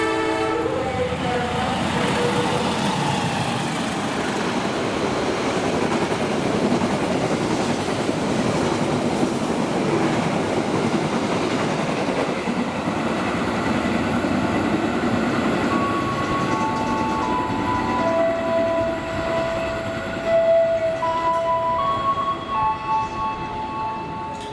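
A passenger train with a dining car in Lebaran livery passes close by, a loud, steady roar of wheels and carriages that holds for the whole stretch, with high tonal squeals rising near the end.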